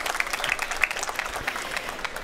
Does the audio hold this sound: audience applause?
yes